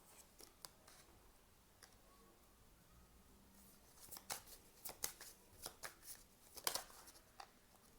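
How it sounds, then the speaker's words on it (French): Tarot cards being shuffled by hand, soft riffling at first, then a run of sharper snapping bursts. The sound is close and quiet, with no voices. "je finis de battre les cartes"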